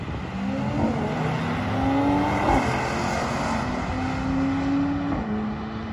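An old-school Chevrolet Corvette and a Mercedes drag race, engines droning with rising gear pulls and a shift near the end, steady and moderately distant.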